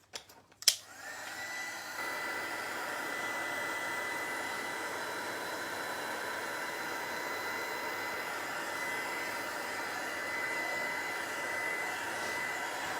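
A hair dryer blows steadily on freshly applied craft paint, a loud, continuous whooshing hum that switches on after a couple of brief clicks and holds unbroken to the end.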